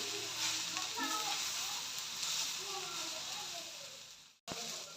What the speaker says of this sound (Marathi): छान असं आपलं खोबरं आणि कांदा तेलामध्ये परतून घेतलेला आहे